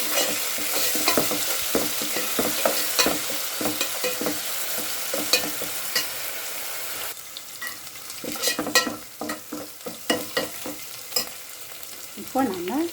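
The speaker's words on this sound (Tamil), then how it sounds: "ரெண்டு ஸ்பூன் போட்டுட்டு கொஞ்சம் வதக்கிக்கலாம்." Ginger garlic paste sizzles in a hot pan for chicken kulambu while a spoon scrapes and stirs it in repeated close knocks over a steady frying hiss.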